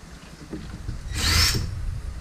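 A power tool with a 5/8 inch socket spins a nut off the rear shock of a 2017 Porsche Macan: one short, loud whirring burst with a high squeal near the middle, and quieter tool handling before and after.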